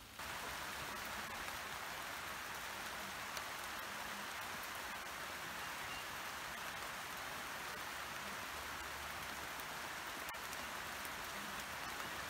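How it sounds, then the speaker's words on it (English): Steady summer rain patters softly on garden shrubs and trees in Wiltshire, a continuous gentle hiss of drops with no voices, even and unbroken throughout. "the way the rain is falling on the leaves of the shrubs and the trees"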